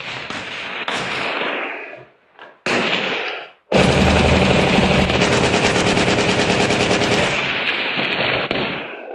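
Police footage of gunfire, with a burst of rapid shots, a short pause, another burst, then a long, loud, continuous volley of automatic fire.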